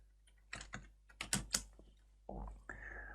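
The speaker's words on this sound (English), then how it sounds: "So let's go ahead and type this in." A handful of sharp, close keystrokes on a computer keyboard as a translation is typed in, spaced irregularly, followed by a longer muffled key press and a faint tone.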